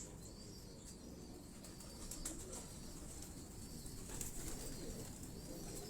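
Teddy pigeons cooing in a loft, low soft coos repeating under a dense, noisy background with occasional wing flutters and faint chirps, no voices.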